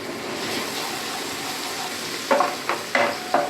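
Ginger garlic paste frying in oil with browned onions in a pan, a steady close sizzle under which four sharp stirring scrapes arrive in quick succession near the end, with no talking.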